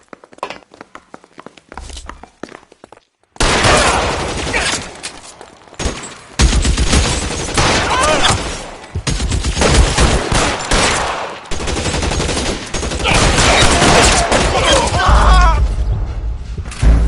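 A loud video-game gunfight in L.A. Noire: a few sparse shots, then sustained heavy volleys of rapid gunfire with shattering impacts, continuous and close from about three seconds on.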